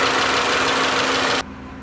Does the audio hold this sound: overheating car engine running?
yes